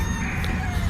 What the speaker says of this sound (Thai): เสียงไก่ร้องไง